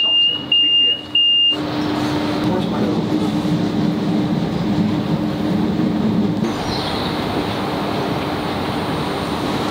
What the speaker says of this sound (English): We've got an hour until our commuter train.